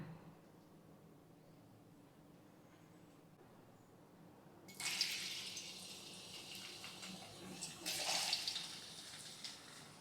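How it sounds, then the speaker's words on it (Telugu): Potato pieces dropped into hot oil start frying with a sudden loud hiss and steady crackling sizzle, swelling again a few seconds later, near and alone with no talk. "ఆయిల్ అయితే హీట్ ఎక్కిపోయింది ఇందులోకి పొటాటో పీసెస్ తీసుకుందాం"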